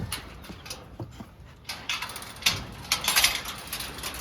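A female dog and mother in a kennel yard, making short intermittent whines and yips alongside metallic rattling, growing busier and louder toward the end.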